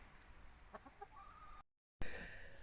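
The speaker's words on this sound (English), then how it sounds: "They're really happy chickens" Happy chickens on a small farm give a few soft, short clucks and a rising call, fairly faint over a low background hiss, before a brief cut to silence and another burst of noise.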